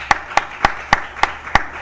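Six sharp claps at an even, brisk pace, close and fairly loud, from a church congregation giving a round of applause; no talk.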